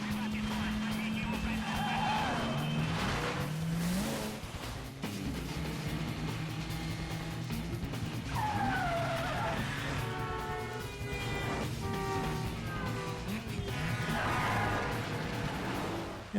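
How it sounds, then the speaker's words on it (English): Cars in a high-speed chase through Moscow streets roar and rev continuously, with rising tire squeals and skids layered over dense engine noise and crashes, all under a voice talking throughout. "what it would feel like if you were in a high-speed chase through the streets of Moscow"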